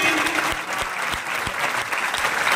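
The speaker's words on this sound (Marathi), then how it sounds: "एकच टाळी झाली, टाळ्यांचा आवाज आला पाहिजे" A burst of clapping from a crowd at a Shri Ram birth festival celebration, steady and moderately loud throughout.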